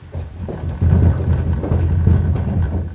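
Low thunder rolls and rumbles from an approaching storm, swelling in loudness and then holding as a continuous deep growl with no voices.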